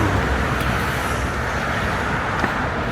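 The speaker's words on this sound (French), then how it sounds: "On vient de croiser 2 voitures là." Two cars pass on a rural road in Montenegro, a steady close rush of tyre and engine noise filling the whole stretch with no clear gap between them.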